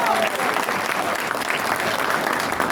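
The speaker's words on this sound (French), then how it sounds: "Est-ce qu'on peut les applaudir?" Audience applauding at a book launch and signing event, sustained dense clapping from a crowd filling the whole stretch, with a few faint voices mixed in.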